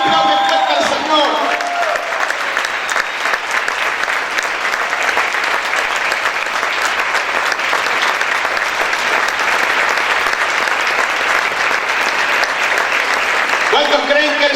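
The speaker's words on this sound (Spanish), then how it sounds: "Aplaude, aplaude, aplaude, aplaude fuerte al Señor." Sustained, loud applause from a church congregation fills the room for over ten seconds, a dense continuous wash of clapping with a few voices audible at the start and end.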